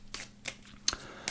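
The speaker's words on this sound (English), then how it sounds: "I'm gonna shuffle this deck again" A deck of playing cards riffled in a few short, crisp bursts, close and fairly quiet, with no one talking.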